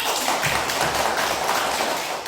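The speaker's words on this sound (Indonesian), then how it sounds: "Tepuk tangan dulu untuk anak Yanti." Schoolchildren in a classroom clap together for a classmate, a dense, continuous burst of many small hands patting at close range, with no talking over it.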